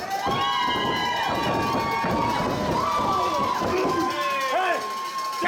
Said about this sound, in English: this crowd is electric right now for these two